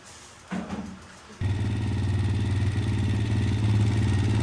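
A Kawasaki KFX 400 ATV engine starts after a short crank and settles into a loud, steady idle with a throbbing, slightly clattery mechanical note, close by and without talk.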